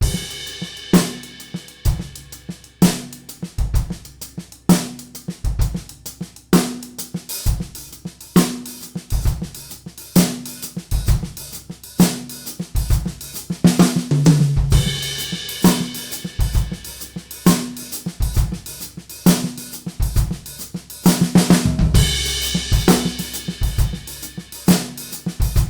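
A drum kit plays a half-time shuffle groove in the style of the Purdie shuffle, with ghosted snare notes, kick and hi-hat openings forming a steady, dense swung pattern. It plays loud and continuous for the whole stretch.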